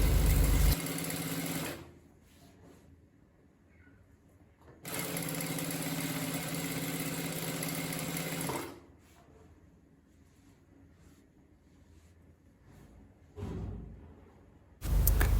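A sewing machine stitches brocade damask fabric for a boubou, running in two sustained whirring bursts separated by quiet pauses, with a brief third start near the end.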